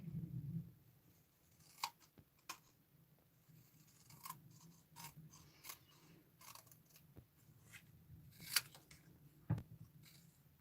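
Scissors snip paper for a handmade stamped card, giving sparse, quiet crisp cuts at irregular intervals over soft rustling, with a couple of sharper snips standing out near the end.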